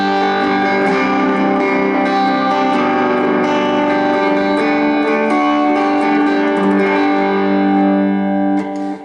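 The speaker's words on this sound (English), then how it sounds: "And if you combine reverb and echo," Sustained electric guitar chords through a Vox AC4TV amp, washed in reverb and repeating echo, loud and steady, fading slightly at the close.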